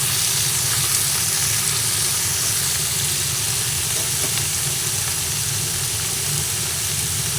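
Cut pumpkin pieces being stirred and fried in a pan for a vegetarian pumpkin and chhana curry, giving a steady, dense sizzle that runs unbroken from start to finish, with no talking.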